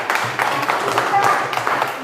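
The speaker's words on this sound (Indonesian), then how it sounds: "Hebat, tepuk tangan." A class of children clapping together in a school classroom, a steady burst of applause lasting about two seconds with voices mixed in.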